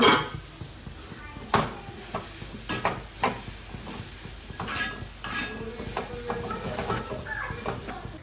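Fish curry with coconut cooking in a pan, with utensils clinking and scraping against the pot during stirring over a faint sizzle and occasional sharper knocks.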